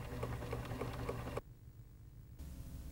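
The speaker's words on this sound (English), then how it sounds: "so you can easily guide your free motion sewing" A Pfaff sewing machine runs a steady, fast mechanical hum for free motion sewing with a guide foot, then cuts out abruptly and leaves only a low, quieter drone.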